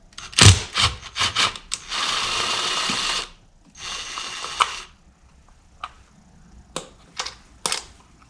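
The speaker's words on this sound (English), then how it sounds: "That one we're going to need a ratchet for" Ratchet work on bolts in a Ford Focus 2.0/2.3 engine bay during spark plug changing, heard as close mechanical clicks and sustained rasping bursts with short pauses between them, no talk.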